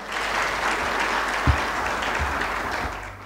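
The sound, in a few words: audience applause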